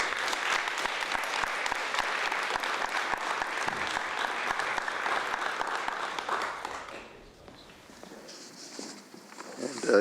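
Sustained applause from a seated ceremony audience welcoming an honoree at an equity awards event, dense steady clapping for about seven seconds before thinning out to scattered claps and quiet room tone.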